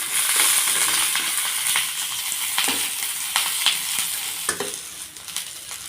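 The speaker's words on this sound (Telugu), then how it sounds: "కొద్దిగా ఆయిల్ పోసుకొని పచ్చిమిర్చి వేయించు" Green chillies frying in a little oil for paneer masala, giving a bright continuous sizzle broken by repeated stirring and scraping strokes against the pan, close up with no voices.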